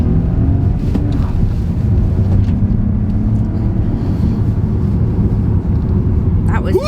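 A deep, steady three-cylinder engine rumble from a 2020 Vauxhall Astra, with a throaty, growling tone, held at a constant idle-like drone close by, with a faint whine near the end.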